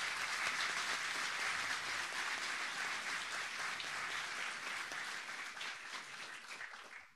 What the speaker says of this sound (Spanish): Quisiera que lo despidiéramos también con un aplauso de gratitud.